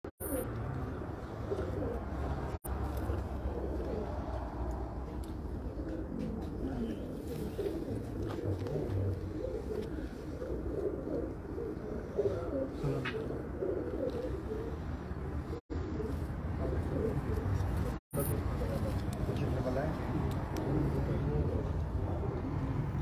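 Pigeons coo softly and steadily on a rooftop loft in Dubai, a low continuous murmur heard from a little distance while people talk over it.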